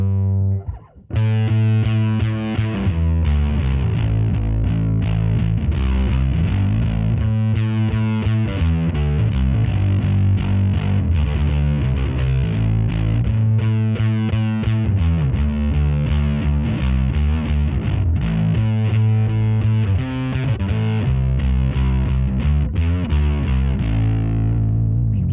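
Bass guitar played through an Ampeg Rocket Bass amp with the grit distortion turned all the way up, a thick, fuzzy, sustained bass line of clear notes running continuously and loud with no talking.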